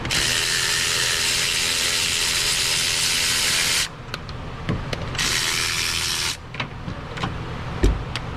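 A ratchet wrench loosens bolts on a Dodge. There are long bursts of rapid, close clicking, then a pause, then another burst, followed by scattered metallic knocks and clanks, with no voices.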